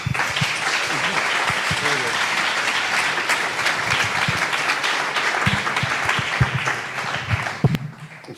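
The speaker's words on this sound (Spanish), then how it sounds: "Un fuerte aplauso, por favor." An audience applauds loudly and steadily at a public talk, dense clapping that holds for about seven seconds before thinning out and stopping near the end.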